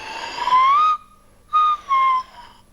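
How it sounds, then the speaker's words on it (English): A swanee whistle made from a blown drill bit slides in pitch, rising and falling, in three short blown notes separated by brief pauses, close and clear. "it turns it into a sort of a swanny whistle. A whistle that has a varying pitch"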